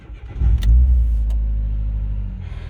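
Mk1 Renault Twingo car engine starting up with a low rumble that settles into a steady idle, loud and close, with a couple of brief clicks early on and no talk.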